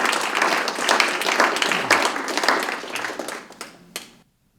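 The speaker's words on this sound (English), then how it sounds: "I think they deserve maybe some applause for the putting together the conference" Audience applause at a literary conference, a dense, lively burst of clapping that thins into a few scattered claps before stopping abruptly.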